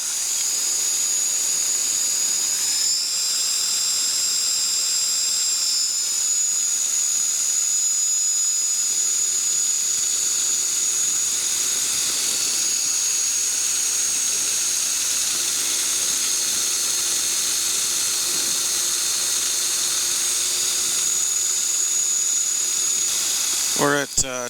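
Electric aircraft motor and propeller in a steady climb at about 2100 RPM, a loud continuous whine and hiss that holds level throughout, with a brief clatter at the very end.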